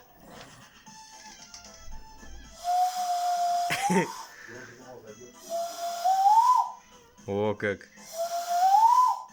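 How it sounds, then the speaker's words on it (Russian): A man whistles through cupped hands, making three drawn-out hollow notes that bend upward, separated by short breathy noises and brief remarks from other men. "Покажи, как правильно свистеть."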